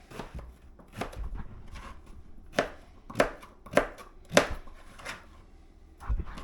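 Knife chopping through turnip on a cutting board, about ten sharp, irregular strikes with a few louder cuts in the middle, close and alone with no talking, part of preparing a moose stew.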